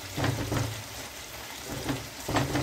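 Chicken pieces for lemon chicken fry in a pan, a soft steady sizzle broken by a few louder scraping stirs at intervals.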